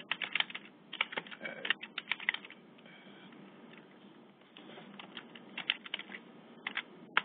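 Quick bursts of keystrokes on a computer keyboard as a password is entered, close and fairly soft, with a brief lull in the middle before the tapping resumes.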